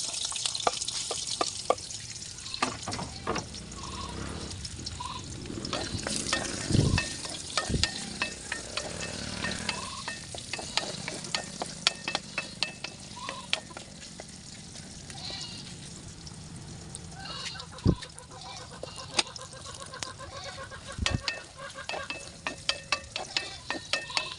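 Hotdogs fry in a little oil in a pan over medium heat, giving a steady crackling sizzle with scattered pops and occasional scraping stirs. Someone talks quietly at times.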